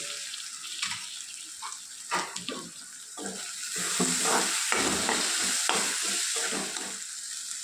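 Chopped medium-sized tomato pieces sizzling as they drop into hot tempering oil for Rayalaseema-style uggani, with steady frying hiss and intermittent stirring scrapes and clatter, close and moderately loud, no voices.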